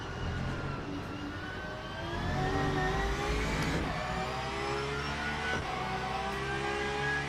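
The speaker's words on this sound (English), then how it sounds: "I think the downshifts really sound a bit different." Mercedes GT3 race car in the Le Mans Ultimate sim, engine whining at moderate volume with rising and falling pitch and abrupt steps as gears are changed down; fairly quiet and steady, no voices.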